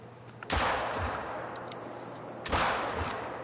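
A hunting rifle fires twice in the game The Hunter: Call of the Wild, each shot a sharp, fairly quiet crack with a short decaying tail, spaced about two seconds apart.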